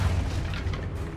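An Expulso explosion spell goes off in Hogwarts Legacy, a short, deep boom that rumbles briefly and then fades, heard alone without speech.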